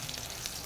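Bitter gourd pieces fry in hot oil until browned, giving a steady, soft sizzle with faint crackles close by and no talk.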